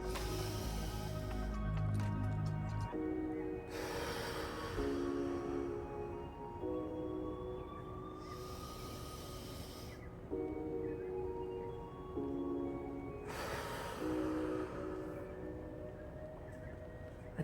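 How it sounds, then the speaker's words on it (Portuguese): Slow deep breaths in a breathing exercise repeat in three cycles of long inhale, hold and soft exhale, each a gentle airy rush over steady background music tones. "Respira fundo, foca na sua respiração. Respira em 4, prende em 3, 4, solta em 5, 6."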